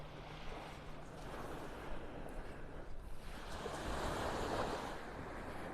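Ocean surf rolls onto the beach at Delnor-Wiggins in North Naples, Florida, a steady wash of breaking waves that swells louder toward the end, with wind buffeting the microphone throughout.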